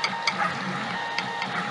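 A 3D printer runs a force-sensing auto-level probing cycle, its nozzle pressing down on cork: soft mechanical whirring with a few faint, irregular ticks and clicks, close and steady for under two seconds, no talking.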